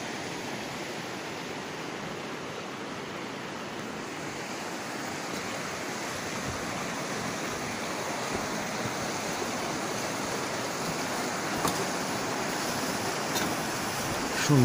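A river rushes in a steady, broad hiss of flowing water, constant and fairly close, with no talk over it for the whole stretch.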